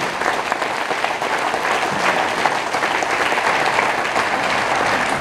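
Audience at a political campaign meeting in Hagetmau applauding steadily, dense clapping filling the room at close range for the whole stretch with no pause.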